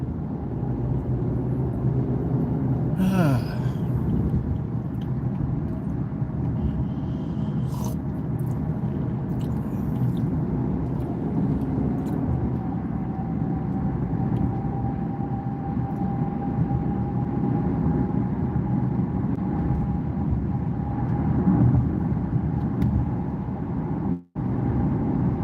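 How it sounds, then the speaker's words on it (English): Road traffic heard from inside a car on a foggy morning near I-10 in Houston, a steady low engine and tyre rumble throughout with faint passing whooshes, no talking. "Guys in the Houston area, there's always traffic."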